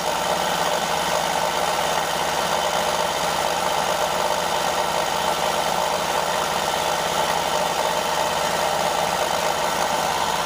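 An AEG Oko-Lavamat 86730 toy mini washing machine runs at high speed, giving a steady, even motor whir and hum that holds constant throughout with no talking.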